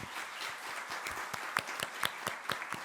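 Audience applause at a CHP women's branch leadership handover ceremony, steady clapping from a crowd with some sharper individual claps standing out in the middle and end.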